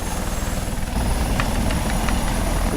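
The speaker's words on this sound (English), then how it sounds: "Once the helicopter is started up" Eurocopter Tiger helicopter engine in the Second Life video game, a steady dense whooshing rotor and turbine roar with a low chopping pulse, loud and continuous throughout.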